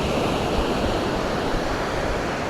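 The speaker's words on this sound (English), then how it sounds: "Gentle waves coming through." Gentle ocean waves wash steadily along Napatree beach in Rhode Island, a continuous soft surf roar with light wind noise and no voices.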